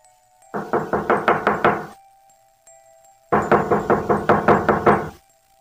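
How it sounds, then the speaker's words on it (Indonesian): Knuckles rap on a wooden door in two quick runs of about five and eight knocks, loud and close with a slight unevenness, separated by silence. "Lalu mengetuk pintu dengan tangan gemetar."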